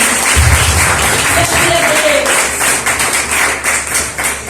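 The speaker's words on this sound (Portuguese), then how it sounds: "Receba a serva do Senhor com palmas bem alegre." A church congregation claps joyfully in welcome, loud, close, fairly rhythmic group clapping that continues throughout, with some voices audible beneath it.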